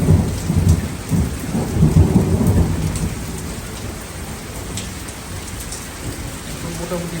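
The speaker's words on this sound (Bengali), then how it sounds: "এখন মোটামুটি বেশ ভালোই বৃষ্টি হচ্ছে।" Heavy rain pours steadily, probably onto a tin roof, while deep rolls of thunder rumble loudly in the first few seconds, then fade to a constant patter of rain.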